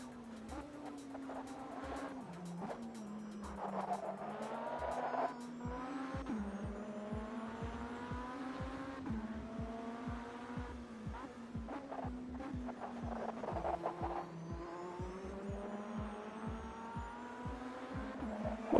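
BMW race car in the Automobilista 2 sim racing game at an IMSA event, its engine droning loudly and steadily through gear changes with repeated tire squeal and skidding as the rear end slides through corners.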